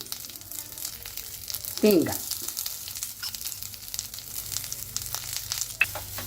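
Green chillies, tamarind, asafoetida, mint, curry leaves and coconut roast in a pan with a soft, quiet crackle and a few stirring scrapes. There is a brief louder rustle near the start and faint background noise throughout.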